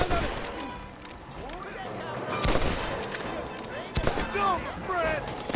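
Gunfire from shooters on a cliff in Red Dead Redemption, with scattered sharp shots cracking over overlapping shouting voices and a busy game soundscape.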